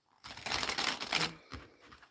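Tarot cards are shuffled during a live reading, giving a close, quiet riffle of papery flutters for about a second, then a short second riffle.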